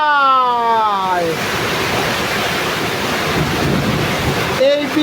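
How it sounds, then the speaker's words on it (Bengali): Rain pouring down in a broad, steady hiss and roar that fills the whole stretch, with a voice heard briefly at the start and again at the very end. "বৃষ্টি পরে টুপুর টুপুর"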